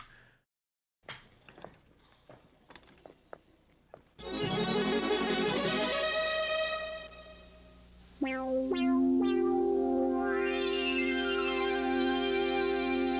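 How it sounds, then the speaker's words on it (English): Retro 1970s–80s TV station bumper made of synthesizer sound effects: sustained harmonic electronic tones, stacked buzzy drones and rising sweeps, loud and continuous, following a short stretch of scattered clicks and taps. "This is a great little bumper station section of synthesizer sound effects from the 70s and 80s."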